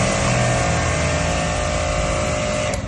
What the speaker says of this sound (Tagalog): Foam washer pa.